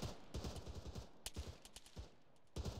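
Bursts of gunfire in the military shooter Arma crackle in quick irregular volleys, several rifles firing overlapping shots with short gaps between clusters, fairly close and sharp.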